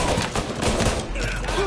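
A rapid burst of gunfire in Mafia: Definitive Edition, with dense overlapping shots rattling close and loud for a couple of seconds and a voice faintly mixed in.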